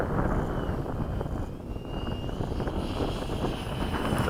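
A model F-104 airplane comes in to land at a flying field, its engine a steady, close roar mixed with wind rush.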